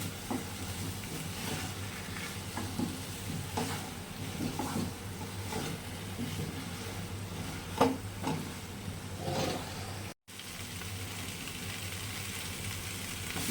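Mutton and raw potatoes fry in a pan without oil, giving a steady low sizzle and hiss with scattered soft scraping knocks, fairly faint and unbroken apart from a brief cut near the end.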